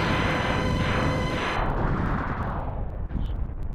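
An enemy blows up in the Megaman X video game: a loud booming blast that rumbles and fades over a few seconds, followed by a short pop.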